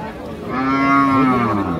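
A desi cow at the Raniganj cattle market in Dinajpur lets out a single loud, drawn-out moo close by, with no talk over it.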